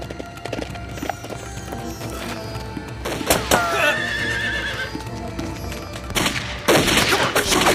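A horse whinnies loudly in a period drama chase scene, with clip-clopping hooves, sharp thuds and faint voices in the background.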